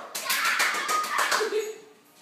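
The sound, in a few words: child clapping hands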